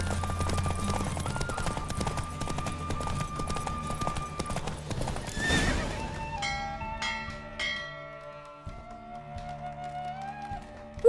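Horse hooves clip-clop at a galloping race pace in The Witcher 3, steady and near over game music, fading near the end as bell-like tones and a brief whinny take over.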